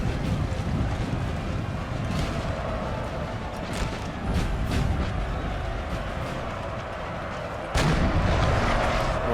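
Cannon artillery firing in Napoleon Total War, a series of muffled booms rolling over a constant windy battlefield roar, with a sharper, louder blast near the end.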